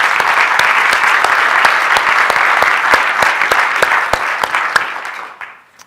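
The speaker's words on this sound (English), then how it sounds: "So could we give them another round of applause" Lecture audience applauding the Tucker Center staff, a full, steady round of clapping with a few sharp nearby claps standing out, sustained for several seconds before fading away at the end.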